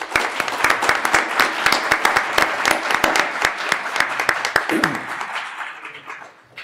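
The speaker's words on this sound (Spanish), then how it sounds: "Les pido que por favor la recibamos con un aplauso" An audience at an archaeology book event welcomes a speaker with sustained applause. Crisp individual claps stand out in the dense clapping before it tapers off and fades near the end.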